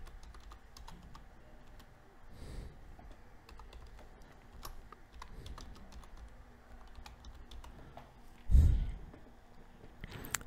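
Keys clack steadily as an email address is typed on a computer keyboard, a run of light, close taps with one louder knock near the end, with no one speaking.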